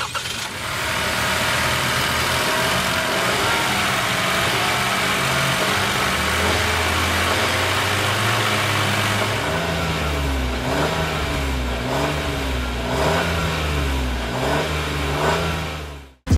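A 2023 Chevrolet Trailblazer's 1.3-liter turbocharged Ecotec engine idles smoothly, then is revved several times, rising and falling in pitch, loud and close with no talking.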